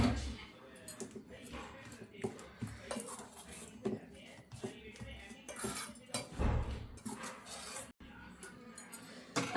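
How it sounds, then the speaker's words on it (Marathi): A spoon scrapes and clinks against a bowl as fresh turmeric pickle is stirred, giving irregular close metallic taps and rubbing, with someone speaking over the mixing. "आता याला छान मिक्स करून घेऊयात आपण."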